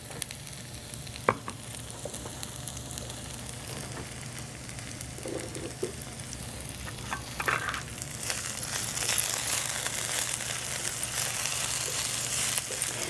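Black bean burgers fry in grapeseed oil in a pan, giving a steady low sizzle and crackle throughout, with a few soft utensil knocks and clinks and the frying growing a little brighter toward the end.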